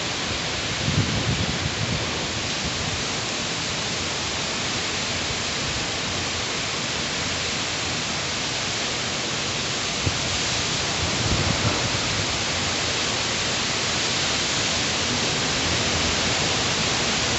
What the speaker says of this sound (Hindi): इसका साउंड जो है ना बहुत ही भयानक साउंड है फ्रेंड्स, जो तूफान का जो साउंड है